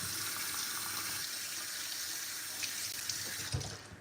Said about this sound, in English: Just use your hand to wash it properly.